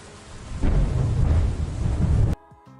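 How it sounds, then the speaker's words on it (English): A loud, close thunder rumble from a sound effect in the game Lured In, a deep sustained roar lasting under two seconds that cuts off abruptly, with faint game music underneath. "That's like a nearby thunder."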